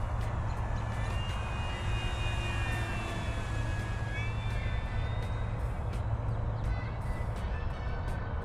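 An FMS Corsair F4U 1700mm RC model plane with an upgraded motor flies past just over half throttle, a steady buzzing whine with shifting pitch over constant wind-like noise.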